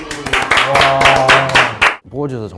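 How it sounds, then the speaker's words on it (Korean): Clapping for the top-ranked student in a medical school admissions talk, with quick rhythmic claps running under a prominent voice before a brief pause near the end. "박수."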